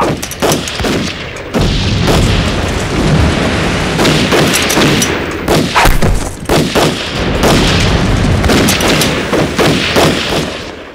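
Heavy gunfire erupts right after an order to fire, with rapid overlapping shots and booms in a sustained, loud barrage over about ten seconds.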